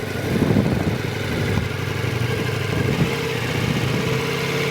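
A motorcycle engine held at steady throttle while riding a circle drill, a close, even mid-pitched drone with slight fluctuations and no talking.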